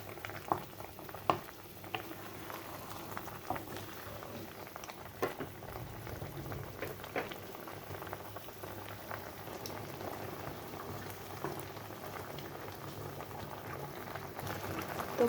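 A radish sour dish boils in a pot: a soft, continuous bubbling with occasional small pops, fairly quiet and steady throughout with no voices.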